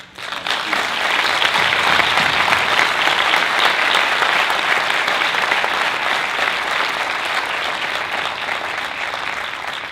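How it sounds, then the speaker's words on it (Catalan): A large audience at a Porrots d'Honor award ceremony breaks into loud, sustained applause, a dense wash of clapping that swells within the first second and holds steady to the end. "Des d'ací demano un fort aplaudiment."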